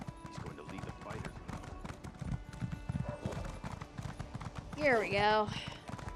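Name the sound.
horse hooves clip-clopping in a video game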